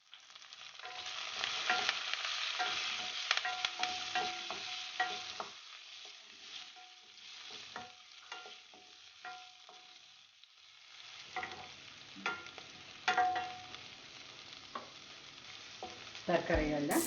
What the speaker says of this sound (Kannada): ನಾನಿಲ್ಲಿ 1 ಎಸಳು ಕರಿಬೇವು ಹಾಕ್ತಾ ಇದ್ದೀನಿ. ಒಂದು 1/4 ಟೀ ಸ್ಪೂನಷ್ಟು ಹಿಂಗು.